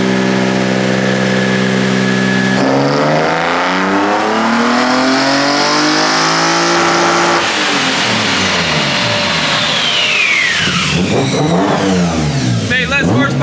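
BMW E30 with an S52 engine on individual throttle bodies revs hard on a dyno in 4th gear, a loud rising engine wail climbing through several sweeps, with a voice in the background.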